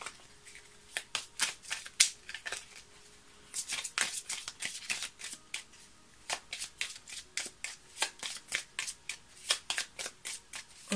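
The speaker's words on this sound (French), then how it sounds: "je vais couper et on va prendre le reste des cartes pour votre tirage" Tarot cards are riffled and shuffled by hand, quick crisp bursts of flapping card noise repeating in an uneven rhythm, close up and moderately quiet, with a brief pause partway through.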